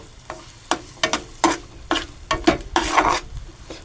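Onions with urad dal fry in a pan for a savoury semolina dish, with a spoon scraping and stirring in uneven strokes over a soft sizzle, close and clear.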